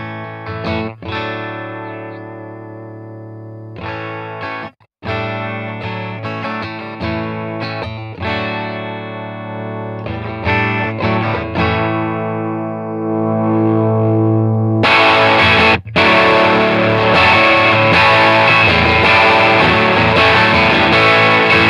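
An electric guitar plays through a Fender '57 Custom Deluxe amp with both channels at maximum, loud and heavily distorted, chords ringing and stopping, then a dense, saturated wall of sustained crunch.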